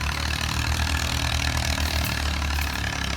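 A ship's engine runs in the engine room of a new bulkhead sand vessel, giving a loud, steady low throb with a pulsing rhythm, continuous and close, with no voices.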